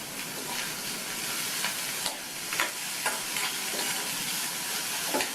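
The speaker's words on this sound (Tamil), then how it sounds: "லைட்டாக ஒரு வதக்கு மட்டும் வதக்கி விட்டுட்டு" Chopped cucumber and softened onion sauté in a hot pan for a Tamil cucumber kootu, a steady close sizzle with soft stirring scrapes and small clatters of the spoon against the pan.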